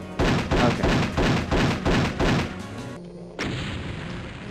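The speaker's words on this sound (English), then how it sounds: "Those are weak rockets." Rockets explode in the video game Action Doom: about six heavy, booming blasts in a fast regular rhythm, followed by a short gap and then a sustained rumbling roar, loud and close with no talk.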